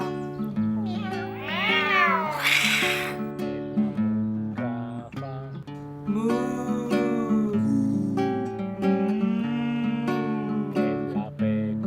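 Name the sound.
cat meowing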